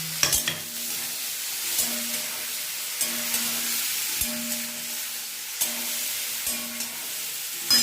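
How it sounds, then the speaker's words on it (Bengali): Green chili and tomato fry in a pan with a steady crackling sizzle, punctuated by repeated spatula knocks and scrapes every second or so. "আর এই যে টমেটোটাও ভেজে নিলাম।"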